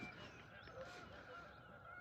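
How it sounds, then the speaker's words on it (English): Swans arriving at a lake give a few honking calls, moderately distant and soft over quiet outdoor background. "Couple of swans coming to the lake."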